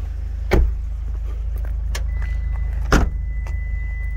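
A 2022 Kia K5 GT's sunroof motor runs with a soft, steady electric whir inside the cabin, broken by a couple of sharp clicks or clunks, over a low engine and road rumble.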